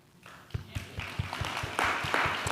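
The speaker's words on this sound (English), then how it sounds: "Y'all are clapping and you don't know why." Scattered audience clapping at a civil rights panel discussion, building from a few claps into moderate applause over a couple of seconds, with a murmur of voices underneath.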